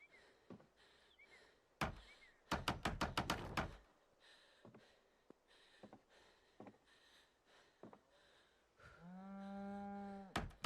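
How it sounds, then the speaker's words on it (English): A cow moos once near the end, a long, clear, low call in Project Zomboid, after a run of sharp chopping thuds and soft taps. "The constant mooing."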